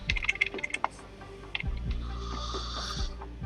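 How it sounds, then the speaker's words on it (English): A short burst of quick key clicks on a computer keyboard, close up, during play of the game Planetbase, followed by low rumbling noise and quieter scattered taps. "you can hear the nervous rattle of my keyboard"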